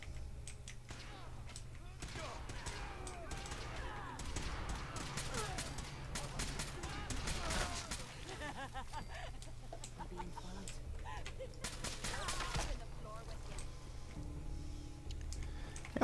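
Scattered gunfire crackles in bursts as enemies shoot one another in a Fallout game, mixed with game sounds and a steady low hum throughout.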